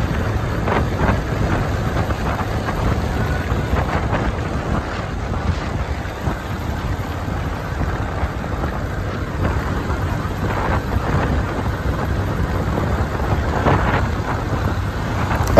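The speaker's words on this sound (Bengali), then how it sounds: "অলরেডি বুঝতে পারছেন অনেক বাতাস" Strong wind buffeting the microphone from the back of a moving motorbike on an open road, a continuous loud roaring rush throughout with no talk.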